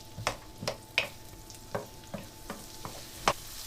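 Garden vegetables frying over high heat, a quiet background sizzle broken by about ten distinct stirring scrapes and spoon taps in an uneven rhythm.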